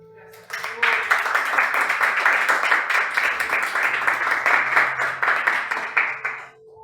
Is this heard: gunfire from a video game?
no